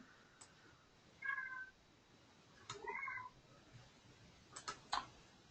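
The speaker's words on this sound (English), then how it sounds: "I hear a kitty cat in the background." A house cat meows three times in the background, faint and somewhat distant, with short spaced calls and a quiet room hum between them.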